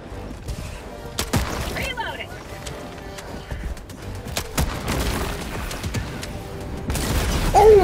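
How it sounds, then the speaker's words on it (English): Grenade pistol explosions in the Helldivers 2 video game, several dull booms and crashes scattered through busy combat noise, with a louder burst near the end. "Who's the genius that closes bunk holes with explosions like that?"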